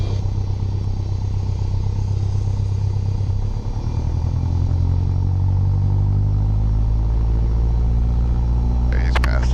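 A small training aircraft's piston engine run up to 2,000 RPM, a loud steady droning rumble with a rising tone, heard from inside the cockpit.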